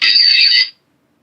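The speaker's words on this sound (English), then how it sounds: "is anybody hearing a beep when I'm keying the mic on the all call?" A short, bright radio beep sounds as the mic is keyed on an all-call channel, one steady tone lasting under a second and then cutting off into silence.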